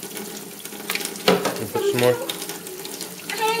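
Tap water runs into a sink during rinsing, with splashing and clattering while a person speaks briefly over it.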